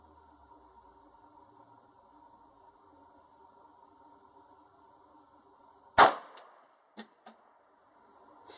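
A single sharp gunshot from a Ruger Security 9 pistol cracks out close and loud, followed by a couple of fainter clinks, over a steady low hum.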